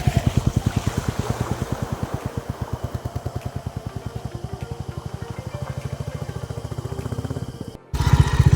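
A motorcycle engine putters in a steady, close, low-pitched rhythm as the bike crosses a river. The pulsing continues throughout, then cuts briefly before a louder burst at the end.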